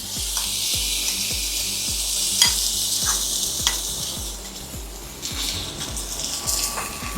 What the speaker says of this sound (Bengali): তেলের উপর কড়াইশুঁটিটা দিয়ে দেবো।